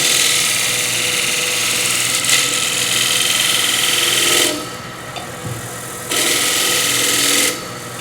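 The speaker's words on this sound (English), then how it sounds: "I now can get in here with my skew chisel and take this side off of it from around the bead" A skew chisel cutting wood on a lathe while turning a platter around a bead, a loud continuous whirring scrape over the motor hum that drops away briefly twice and resumes, with no speech.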